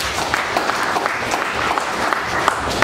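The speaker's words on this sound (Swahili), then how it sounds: "Hebu pesa makofi yako mazuri." A church congregation applauding during a sermon, a dense, continuous wash of many hands clapping loudly with a few sharper claps standing out.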